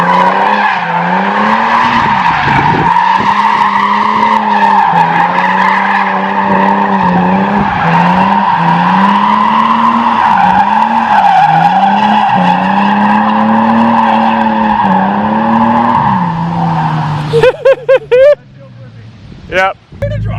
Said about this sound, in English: Oi, Michael, that's his first donut.